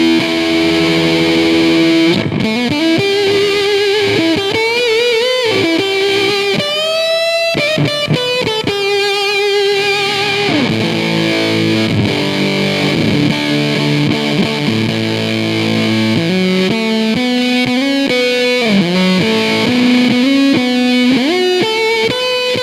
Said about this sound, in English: I'll try it now through the P90 style guitar and with the fuzz on full